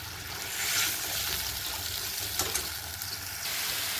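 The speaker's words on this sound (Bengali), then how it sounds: "সামান্য পরিমাণে জল দিয়ে দেব।" A small splash of water poured into frying masala paste in a pan, a soft trickling and gentle sizzle, faint and continuous with a slight swell near the start.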